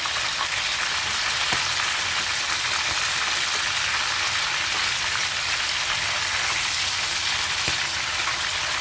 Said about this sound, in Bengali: এইভাবে প্রত্যেকটা চিকেন ভেজে নেব